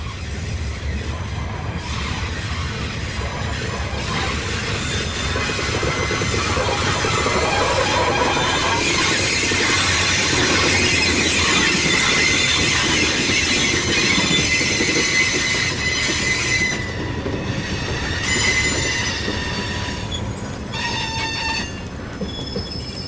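A long freight train rolls past nearby, its heavy rumble and clattering wheels continuous, with metallic squeals from the rails rising and fading.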